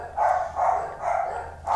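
Dogs barking at a distance: four muffled barks in a fairly regular rhythm, each soft and somewhat faint, with no talking over them.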